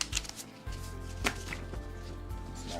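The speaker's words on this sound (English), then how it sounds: "I will still be chopping away." Rapid knife chopping of food on a board, close and fairly loud, with a steady series of sharp strikes under a constant low hum, no talking.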